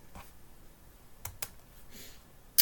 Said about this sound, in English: I'm going to type Wikipedia